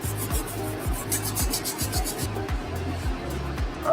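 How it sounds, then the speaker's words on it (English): Nylon bristle detail brush scrubbing a Flint Jordan 13 sneaker, a close rhythmic back-and-forth rubbing with regular strokes about twice a second, steady and moderately loud. "I'm actually gonna be using a nylon tip bristle detail brush and just scrubbing those areas"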